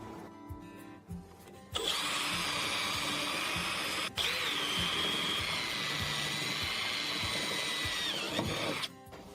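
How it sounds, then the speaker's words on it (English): A cordless screwdriver fitted with a small drill bit bores into the outer steel plate of a 2019 Peugeot Partner van door, a steady whining drone running for about seven seconds after a short start, with a brief interruption midway. "Attach a smaller drill to the screwdriver and drill the outer plate at the center of all 3 holes"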